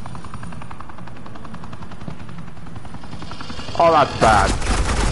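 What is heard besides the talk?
suppressing gunfire in the Batman The Enemy Within video game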